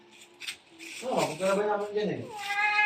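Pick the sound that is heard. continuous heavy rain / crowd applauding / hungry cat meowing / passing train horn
hungry cat meowing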